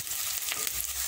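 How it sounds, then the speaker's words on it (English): Onions fry in a little oil in a sufuria, a soft steady sizzle with faint crackles and a brief stir, quiet and close with no talking. "Okay, you see my onion is frying very well."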